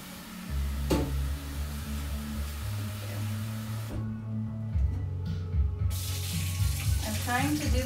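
Tap water runs steadily into a container while hummus is being made at home, a continuous close splashing flow with some clattering and brief handling noises partway through.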